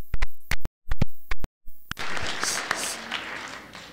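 A few sharp, separate loud claps ring out in a high school public meeting room, then give way to a broader, softer spread of audience clapping that carries on steadily.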